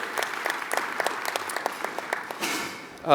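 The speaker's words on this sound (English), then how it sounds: "if we could give them a round of applause as well for all the work that they do" Audience at an awards luncheon claps steadily, a dense, even patter of many hands at moderate distance, fading out near the end.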